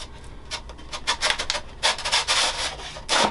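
Spar for the wing of an H-King Yak-11 RC warbird sliding into the foam wing, heard as a close series of short rubbing and scraping pushes that grow louder toward the end, with no speech.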